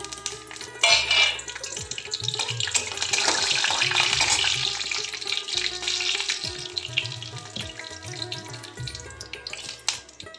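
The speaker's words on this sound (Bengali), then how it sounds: "তেলটা একটু গরম করে নিচ্ছি আমি এবার একটা ফোড়ন দেব শুকনো লঙ্কা জিরে তেজপাতা আর গোটা গরম মশলা এটা ফোড়নে দিয়ে দিচ্ছি" Dry red chilli, cumin seeds, bay leaf and whole garam masala sizzle in hot oil in a pan, a continuous bright crackle that swells and then settles, heard up close with no voice over it.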